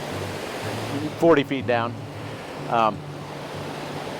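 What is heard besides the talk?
water rushing down a river in Baxter State Park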